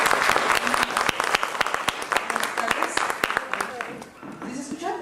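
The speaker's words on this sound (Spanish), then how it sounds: "Un aplauso fuerte" Loud, sustained applause from an audience at a human rights and women's rights conference, dense clapping that thins slightly toward the end, with no speech over it.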